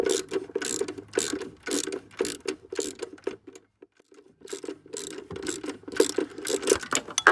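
A hand ratchet clicking steadily as it turns the alternator adjuster bolt on a Kia Picanto during an auxiliary belt change, rapid close pawl clicks with a short pause mid-way before resuming.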